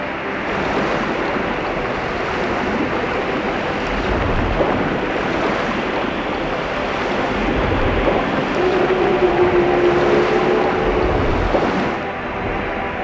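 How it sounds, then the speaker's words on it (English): Ocean waves surge and wash continuously as a sea turtle creature breaches the water in The Legend of Spyro: A New Beginning, a loud, broad rushing roar with swells of splashing. "Look at this bit here where a sea turtle type of thing breaches the water."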